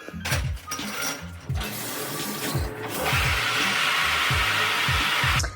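Shower water runs in a steady hiss, with background music and its bass beats playing throughout, growing louder and brighter partway through before cutting off at the end.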